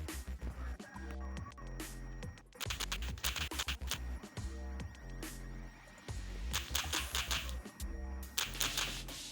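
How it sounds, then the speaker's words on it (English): Fast typing on a computer keyboard gives bursts of quick, close clicks that come in runs with short pauses, over a steady low background hum. "Okay, let's just type that."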